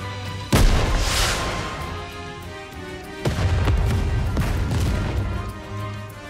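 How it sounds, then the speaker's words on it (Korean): A rocket launcher fires in the video game NIKKE with a loud blast, and a second heavy explosion follows about three seconds later, each trailing off into a long rumbling roar. "로켓 런처가 불을 뿜었습니다. 엄청난 폭발에 서로는 희뿌연 연기로 뒤덮였고"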